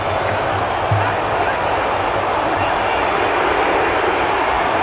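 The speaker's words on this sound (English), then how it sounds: "Shoot, scream the crowd." Football crowd at an FA Cup match, Southampton against Leicester City, a steady loud roar of massed voices rising as a corner is taken, with commentary spoken over it.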